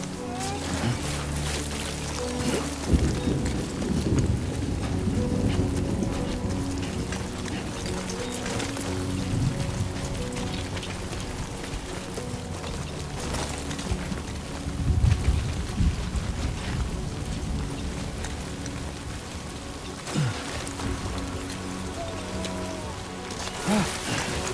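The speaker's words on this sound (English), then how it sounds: "Rain." Rain falling in the video game Death Stranding 2, a steady patter and hiss throughout with low rumbles and a few sharp thumps and bursts of game sound layered over it.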